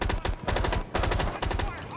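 Rapid bursts of automatic gunfire in a tactical shooter video game, loud repeated volleys firing in quick succession with brief pauses between strings of shots.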